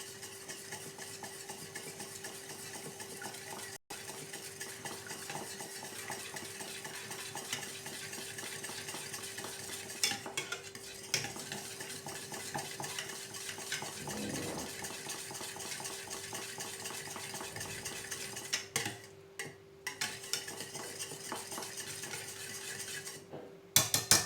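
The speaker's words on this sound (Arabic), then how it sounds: "ها هو البنات تخلط." A homemade milk pudding mixture is stirred in a pot, heard as soft continuous scraping and swishing with occasional clinks of a utensil against the pot, fairly quiet and steady throughout.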